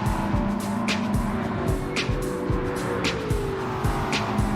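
Race cars, including Toyota Supras, lap a track in Gran Turismo 7, with continuous loud engine drone, shifting pitch and repeated sharp tire chirps and clicks, no talk.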